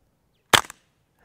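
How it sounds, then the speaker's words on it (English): A single suppressed .22 shot from a Ruger 10-22 takedown fitted with a KGMade Swarm full-titanium modular silencer, firing CCI standard velocity suppressor ammo: one sharp, close crack followed by a quick, short echo decay, then silence. "I'll be testing the Swarm using CCI standard velocity and suppressor ammo through my Ruger 2245 10-22 takedown and my Savage BFESR."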